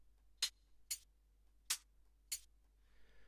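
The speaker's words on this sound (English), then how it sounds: "and then you would typically have hi-hats" Four short, crisp hi-hat sample hits from Ableton Live's Impulse drum sampler, evenly spaced ticks followed by a faint shimmering tail, clean and isolated.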